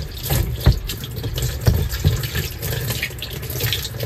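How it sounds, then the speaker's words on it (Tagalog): Water gushes and splashes steadily as a washing machine drains through its hose, with a few louder sloshes along the way. "Lumalabas na yung tubig na doon"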